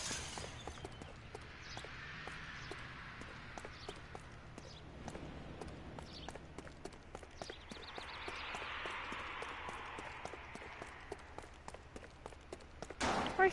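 Horse hooves clip-clop in an even, repeating rhythm on a street in LA Noire, moderately close over a faint city ambience.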